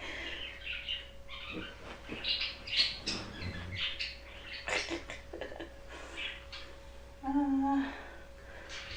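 Several pet birds squawk and call in bursts against a steady indoor background hum, the harsh cries irregular and fairly close, with no talking over them.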